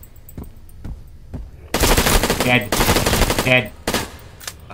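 Rapid bursts of automatic gunfire from a zombie shooter game, loud and dense across the middle of the clip, after a quieter stretch with a few faint shots; a voice speaks briefly.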